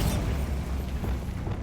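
A Bombarda explosion spell blasts in Hogwarts Legacy, a dense, booming burst that opens sharply and then rolls on as a sustained low rumble for under two seconds, with no talking over it.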